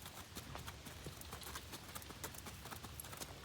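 A gaited horse named Cocoa Bean clip-clops steadily through a lesson, hooves striking in a quick, even rhythm over constant background noise, fairly faint and with no clear talking.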